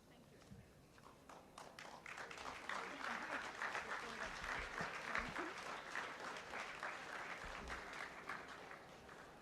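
Applause from an audience at a school farewell ceremony: quiet, scattered clapping that starts sparse and thickens into a steady patter of many hands, heard from a distance at low level.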